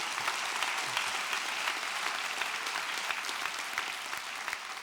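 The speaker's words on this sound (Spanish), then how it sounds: "Alguien le dé el aplauso al Señor ahí donde está." A church congregation claps together in sustained, dense applause that stays steady and fairly loud throughout, with no clear speech over it.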